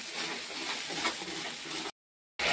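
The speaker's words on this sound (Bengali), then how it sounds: "দিয়ে ভালো করে এটা মশলাটাকে কষে নেব।" Whole spices for a jackfruit curry (kalia) fry and get stirred in hot oil in a pan, giving a steady close sizzle with scraping, then a brief silence before the sizzle returns.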